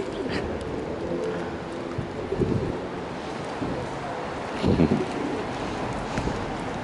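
Wet pet pigeons perched and climbing on a person give soft, low cooing calls, a few murmured coos rising around the middle and near the end over steady wind-like background hiss.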